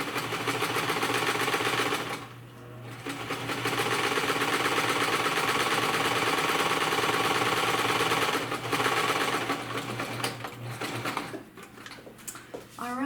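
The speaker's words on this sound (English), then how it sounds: "And then you're going to sew all the way across the bottom to close the open" A sewing machine stitches across the bottom of a fabric face mask, a close, rapid mechanical whir that runs in long bursts with short pauses between them.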